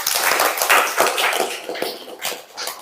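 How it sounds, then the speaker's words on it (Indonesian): A classroom breaks into applause for a student, with dense, close hand clapping that rises quickly and then tapers off over a few seconds. "Oke, kasih tepuk tangan untuk Damar."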